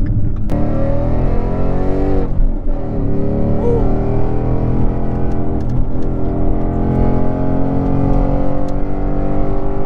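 A steady, loud engine drone fills the interior of a Ford Mustang 5.0, with low rumbling and a rising, whining tone as the motor works, no talking.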